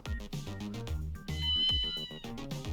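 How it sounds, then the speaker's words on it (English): A cartoon cat meows in the video game Ghost Trick: Phantom Detective, several short meows set over a bouncy, looping game music track that plays the whole time, close and fairly loud. "Ooh, cat!"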